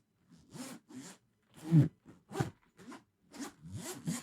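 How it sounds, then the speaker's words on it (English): A microphone case zipper is pulled back and forth in a series of short, quick strokes, close and quiet, with brief pauses between them. "Here is me zipping and unzipping the case that my microphone at home lives inside of."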